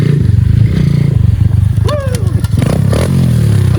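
Mini bike engine running loud and close, with a rising whine and scraping clatter as it brakes, engine note steady throughout.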